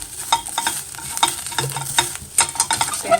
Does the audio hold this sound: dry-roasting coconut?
yes